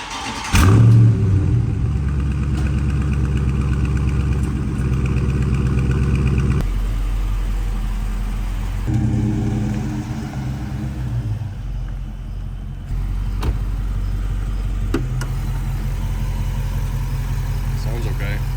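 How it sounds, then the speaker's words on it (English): A Dodge Charger Scat Pack engine idles loudly with a deep rumble, then revs up for a burnout and holds at higher pitch, close by, with a few faint sounds over it. "I think we take it outside and do a burnout with it, just to make sure it works"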